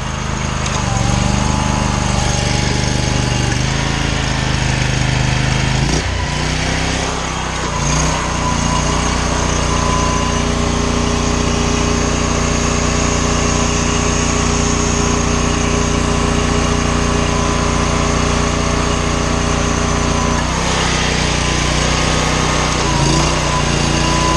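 A gas-engine pressure washer starting up and running, a loud steady engine drone close by with a brief change in pitch partway through, continuing evenly with no talking.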